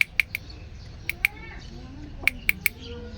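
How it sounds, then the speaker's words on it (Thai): A gas stove igniter clicks before a new base is fitted, sharp and close, in two irregular bursts with a pause between them, over a low background hum. "นี่คือเสียงการเปิดหัวแก๊สตอนที่เรายังไม่ได้ใส่ถ่านครับ"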